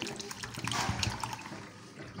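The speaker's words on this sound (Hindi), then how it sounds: "उसमें हम थोड़ी सी पानी डालकर" Water is poured into a bowl of soaked sago pearls, a short close splashing trickle that swells and then tapers off.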